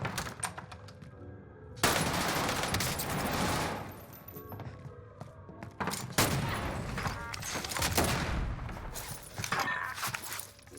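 Gunfire in Call of Duty Warzone on Rebirth Island, with dense bursts of automatic fire and loud volleys arriving in waves over a steady in-game background, with no talk.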